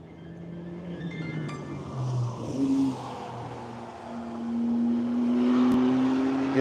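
A race car arrives on track during the One Lap of America event at Hedge Hollow, engine rising from a distant drone to a louder, steadier approach with a pitch climbing as it nears.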